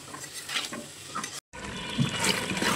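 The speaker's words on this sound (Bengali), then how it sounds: "আলুর মধ্যে লবণের ছিটা দিয়ে আলুগুলো একটু আমি ভেজে নিচ্ছি" Potatoes sprinkled with salt fry in a pan, a soft sizzle with stirring scrapes that drops out for a moment before returning.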